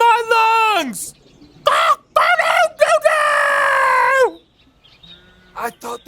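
A person imitates a rooster crowing at the top of their lungs in a loud, drawn-out vocal crow with falling pitch. Shorter crowing bursts follow, and a second long, wavering crow comes after them.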